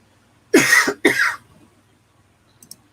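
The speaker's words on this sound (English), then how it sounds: "Sorry about my coughing" Two sharp coughs in quick succession, close and fairly loud, from a man who had choked on gutka, followed by silence and a faint click.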